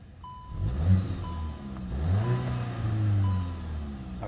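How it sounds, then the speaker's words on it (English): A 2022 VW Golf GTI MK8 with a 2-liter turbo engine starts and revs, with a deep rising and falling engine note through two blips while a cabin chime beeps repeatedly. "very familiar sounding 2-liter turbo"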